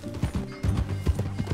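Horse hooves clip-clop in a quick, steady rhythm in the video game Red Dead Redemption 2, close and clear, with low game sounds around them.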